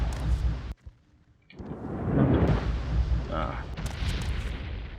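Fire spell cast at a cliff racer in the Morrowind video game: after a brief near-silent gap, a loud roaring whoosh swells up and rumbles on for several seconds, with a couple of sharper bursts near the end.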